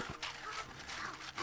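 A dog voiced by a human actor in episode six of the One Piece anime, a guard dog at a shop, gives short yips and whimpering barks in quick succession, close and fairly loud.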